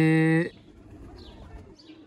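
Pigeons held by a Sialkot fancier of old champion bloodlines, a short burst of strong, steady harmonic cooing that stops abruptly, followed by faint chirps over low background noise.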